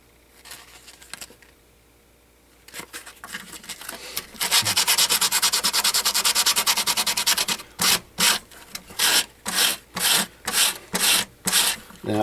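A leather sheath is sanded by hand with 80 grit sandpaper: a few quiet scrapes first, then a few seconds of continuous harsh rubbing, followed by about eight distinct back-and-forth strokes, close and loud.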